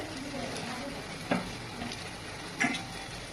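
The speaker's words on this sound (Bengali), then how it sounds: "এই যে লুচি ভাজছি" Luchi fry in hot oil with a soft, steady sizzle, broken by two brief clinks of a utensil against the pan.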